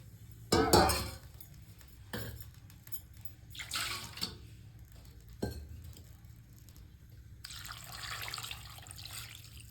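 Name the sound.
pouring water over goat head meat in pressure cooker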